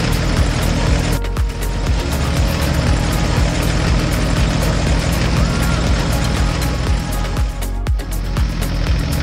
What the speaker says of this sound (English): The rake moves at a steady pace as the yellow tractor tidies up more rows of straw